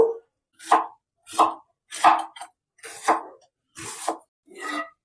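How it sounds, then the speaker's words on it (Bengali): An onion is chopped into small pieces with a knife for a cabbage and egg curry, giving seven evenly spaced, fairly loud, close chopping strokes with short silences between them and no talking. "পেঁয়াজটা এই ছোট ছোট করে কেটে নেব।"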